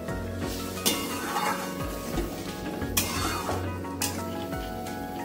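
Hot water poured into a wok of sizzling spices for a Bengali rui fish curry, with a steady frying hiss, clinks of a utensil against the pan and brief surges of bubbling.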